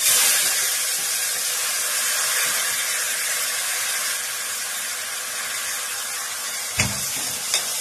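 Chopped onions fry in a pan for a mushroom curry, producing a soft, steady hissing sizzle, with a couple of brief clicks of utensils near the end and no voices.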